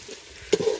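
Onions drop into hot oil and break into a sudden loud sizzle halfway through, which keeps crackling steadily after a quiet start.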